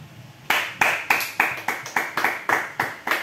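A congregation claps in acclamation at a church deliverance service, about ten sharp, evenly spaced claps close by, with no talk over them.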